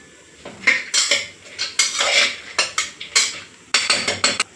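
A metal spoon clinks and scrapes against a metal cooking pot as chopped tomatoes and salt are stirred, in a quick irregular series of close, bright strikes with no voices.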